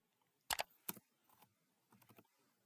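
A few keystrokes tap on a computer keyboard in small, quiet clusters, close and isolated, while text is entered into an Excel spreadsheet.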